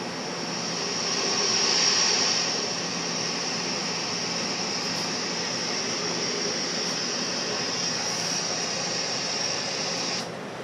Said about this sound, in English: Actually, this drone is its own sound.